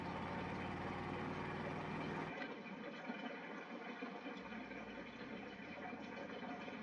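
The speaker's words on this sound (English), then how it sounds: "This truck just sounds awesome." A Ford truck's engine running near a bean field, a low, steady rumble that holds at a constant level for several seconds, heard fairly faintly.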